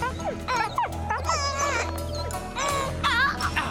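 Wild dog (dingo) in a French-dubbed cartoon barking and yipping in short excited bursts with whimpers, mixed with animated character voices talking over it.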